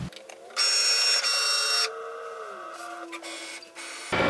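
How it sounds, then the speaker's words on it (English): A Cricut Maker cutting machine slices fabric with a whirring, buzzing motor that rises loud for about a second, settles into a softer gliding tone, then surges again at the end. "We are cutting fabric for the first time with the Cricut Maker"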